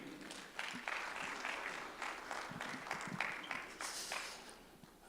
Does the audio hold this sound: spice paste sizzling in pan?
no